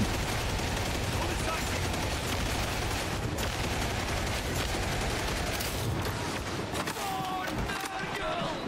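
Continuous dense gunfire in Warhammer 40k Darktide with a Zealot character, rapid overlapping shots and impacts held at a loud, even level throughout, mixed with game noise and some voices.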